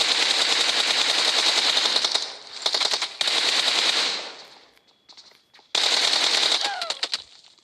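Loud, close rapid-fire gunfire from the PUBG Mobile battle royale game comes in long sustained bursts with brief gaps, followed by a short quiet stretch and then another heavy burst, with no talking over the shots.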